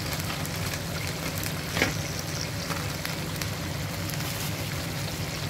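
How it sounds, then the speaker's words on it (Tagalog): Chicken curry bubbles and sizzles in its own juices in a pan, a dense steady crackling hiss close by with one brief louder clatter partway through. "kumukulo na siya sa sarili niyang tubig"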